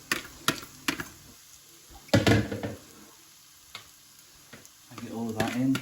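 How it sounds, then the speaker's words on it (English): Eggs hit a hot frying pan and are stirred, giving a light sizzle broken by sharp scrapes and clatters of a utensil against the pan, with a burst of louder frying near the middle; a voice murmurs briefly. "and then we're going to add the eggs"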